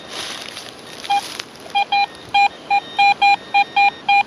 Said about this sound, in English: We'll just check that with the detector.